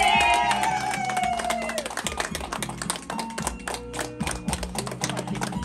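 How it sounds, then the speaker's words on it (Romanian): Audience clapping along in rapid, steady rhythm over loud festive music with singing at a surprise celebration in Giurgiulești, the claps sharp and dense through most of the stretch. "Aplauze, aplauze, aplauze!"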